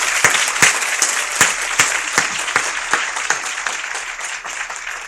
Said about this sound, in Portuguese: queria todos aqui dessem uma salva de palmas para a Abrapava e para a Sandra especialmente.